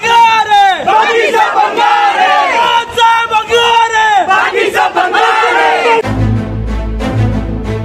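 A dense crowd of opposition supporters at a Maharashtra political celebration chants and roars in loud, rhythmic waves of massed voices, close by, ending on heavy drum-like thumping.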